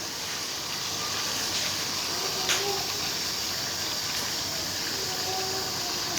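Mutton karahi with cream, cooked on a low flame, is stirred in a pan with a steady soft hiss and a few faint scrapes and clinks.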